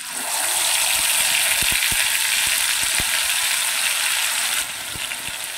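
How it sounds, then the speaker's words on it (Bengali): Asafoetida, cumin and ginger-chilli paste hit hot oil in a pan, a loud, dense sizzle with scattered clicks that eases slightly near the end. "তেলটা ভালো মতো গরম হয়ে গেছে, দিয়ে দিচ্ছি অল্প একটু হিং। এবারে দিয়ে দিচ্ছি জিরে, আদা আর লঙ্কা বাটা।"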